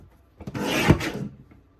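A paper border strip for a scrapbook page is trimmed with a single brief, close rasping slide of a cutter, about a second long, with no talking.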